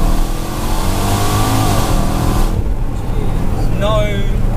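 A 650bhp Jaguar XJL Autobiography revs in drive, a loud, steady engine drone that dips and eases as it gets underway, with someone talking over it.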